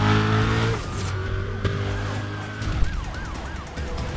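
Police sirens wail continuously in Need for Speed: Undercover during a police chase, loud and close, with the engine droning underneath and a brief tyre screech partway through; nobody speaks.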